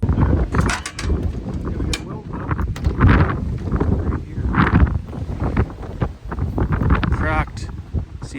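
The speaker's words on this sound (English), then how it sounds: "Listen to that wind. I can feel it blowing the truck around right in the yard here." Strong wind gusting around a farm truck parked in a yard, buffeting the microphone with rough, uneven roaring bursts and some rattling of the vehicle throughout.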